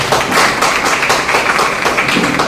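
An audience at a venue event gives a dense, continuous round of applause for a woman named Nazia, loud and sustained throughout with no speech over it.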